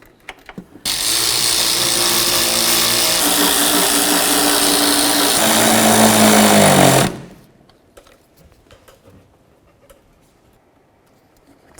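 A power tool snugs up the mounting hardware bolts while replacing the wiper regulator on a 2007-17 Ford Expedition. It whirs loudly and steadily for about six seconds, then cuts off, leaving faint handling clicks.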